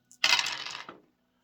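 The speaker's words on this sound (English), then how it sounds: "So I remove the dice." Dice dropped during a geomancy and cleromancy reading, giving a single brief clattering rattle that starts sharply, stays fairly loud and settles within about a second, with no talk.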